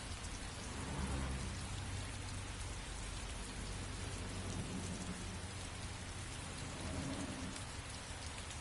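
Heavy rain falls in a video game as a dense, unbroken hiss with low thunder rumbling beneath, constant and even throughout, with no voices.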